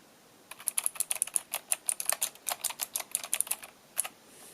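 Rapid clicking of a Razer BlackWidow V3 mechanical gaming keyboard, a steady run of sharp taps for a few seconds, close and fairly quiet, with no talking.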